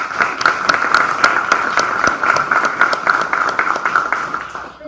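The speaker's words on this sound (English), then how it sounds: "a round of applause for our AP Scholars" An audience at a school board meeting applauds AP Scholars, with steady, moderately close clapping that holds for a few seconds, with a faint voice underneath.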